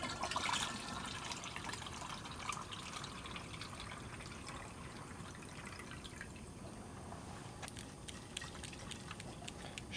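Boiled water is poured onto decanted yeast slurry in a homebrewing setup, giving a faint, steady trickle and splash of liquid throughout with small drips and clicks, no talking.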